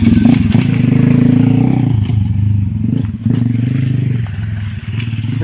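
A motorcycle engine drones loudly and close, rumbling steadily as it passes on a road near a pond, with some clatter and scraping mixed in; no talking.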